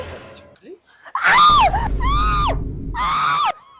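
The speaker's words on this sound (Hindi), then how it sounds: "इतनी तेज क्यों चिल्ला रही है भाई?" A woman screams loudly in three long, wavering wails separated by short gaps, close and intense against a low background rumble.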